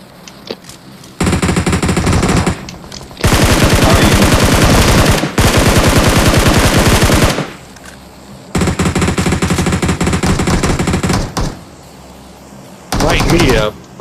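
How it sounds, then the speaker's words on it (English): Enemy gunfire in the PUBG Mobile video game, loud sustained bursts of automatic shooting in several long volleys with short pauses, a player's voice faint underneath. "I got a guy shooting behind me"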